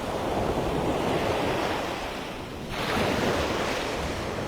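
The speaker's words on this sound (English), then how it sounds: "I love standing here with the waves washing up on my toes" Ocean surf rolling up onto the sand at Delnor-Wiggins beach in North Naples, Florida, a steady close wash of waves with wind buffeting the microphone, swelling again partway through.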